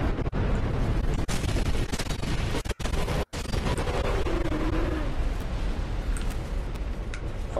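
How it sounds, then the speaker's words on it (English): A boss's fire slam attack in Dark Souls 2 produces a sustained roaring, crackling blast with thudding impacts, loud and continuous for several seconds. "Fire slam"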